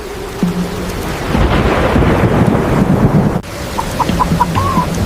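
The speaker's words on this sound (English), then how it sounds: "A storm is coming. It is raining." Thunder rumbles low and continuous beneath steady rain, with a few chicken clucks poking through near the end.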